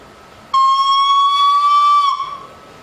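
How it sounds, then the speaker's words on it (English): A single loud, sustained shrill whistle-like tone from a wind instrument, held steadily for about a second and a half before cutting off. "Sounds like just a normal whistle, eh?"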